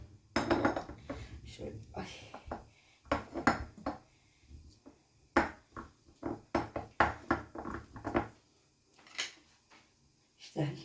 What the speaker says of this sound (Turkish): Çatalla ezeyim bunları.